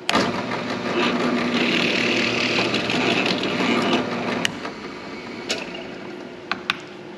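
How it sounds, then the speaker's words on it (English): A drill press bores a hole into a small wood block held in a jig, with a sustained whirring grind for several seconds, then the motor stops and a few light clicks and taps follow. "turn the drill press on, and drill down to make the hole"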